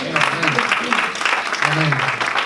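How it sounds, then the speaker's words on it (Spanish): Congregation applause at a church service fills the whole stretch as a steady patter, with a voice speaking loudly over it throughout. "Un aplauso para el Señor"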